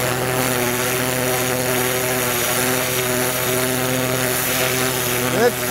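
A pressure washer running with its strongest nozzle during fleshing of raccoon and beaver hides, giving a loud, steady, droning buzz with a constant tone throughout.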